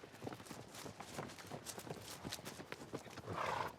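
A mare's hooves clip-clop steadily outdoors as she walks out through a gate on open Western range, with repeated clear hoof strikes and rising ambient noise near the end.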